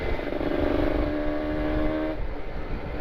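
A motorcycle fitted with an R9 Carbon exhaust rides at night on Bandung roads, its engine humming loud and close with a steady revving drone that shifts pitch partway through.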